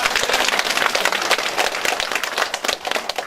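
A hall full of attendees at a National Assembly member's constituency report meeting in Geumam 2-dong, Jeonju, claps loudly and continuously, a dense, close patter of many hands with no speech over it.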